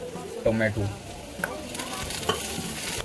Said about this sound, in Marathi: आता कांदा टमॅटो तळलेला आपला.